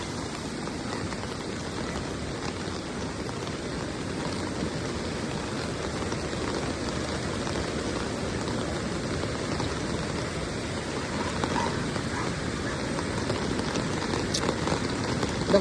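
A swollen stream rushes in heavy rain beside a dike, a dense, constant roar of water and downpour that holds steady and close throughout, with no voices.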